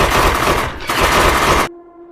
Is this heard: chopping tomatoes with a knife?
no